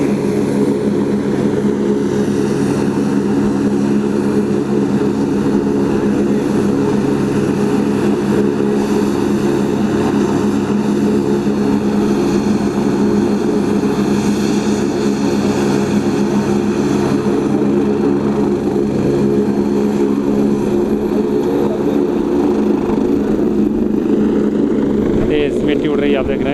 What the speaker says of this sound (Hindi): हेलीकॉप्टर अब उड़ान भरने वाला है।